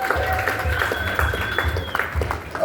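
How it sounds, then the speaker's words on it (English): Audience applause in a room at a jazz festival lineup reveal, steady clapping with some tonal background sound running through it. "So give yourselves a great round of applause,"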